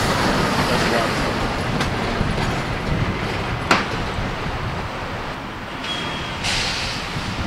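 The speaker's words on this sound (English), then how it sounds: "the only bad part about staying here is you got the truck noises." Heavy traffic near a grassy roadside stop gives a continuous, loud broadband rumble with trucks, rising and swelling at times, with a couple of brief sharp clanks.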